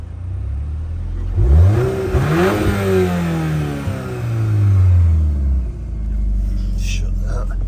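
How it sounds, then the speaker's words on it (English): A Volkswagen Golf R Black Edition hatchback with a petrol engine and DSG gearbox, set to sport mode, revs up loudly in two rising blips, then swells again and drops back to a low idle rumble. "You can hear the engine. Let's just give it a little bit of a pop, pop, pop."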